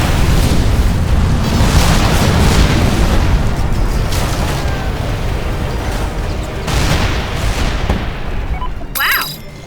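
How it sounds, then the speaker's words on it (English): Airstrike blasts in the video game Mercenaries 2: World in Flames: a loud, sustained wall of booming explosions and rumbling debris over nearly ten seconds, swelling again near the end before a sharp burst. "Guided airstrike incoming on your target"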